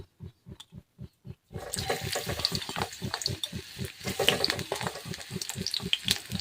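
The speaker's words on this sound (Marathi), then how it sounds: "आता आपण जे कारले घेतली होती ते कारले आता तेलात टाकायचे" Pieces of bitter gourd hit hot oil in a pan, bursting into a loud, dense crackling sizzle after a few soft taps, continuing steadily up close.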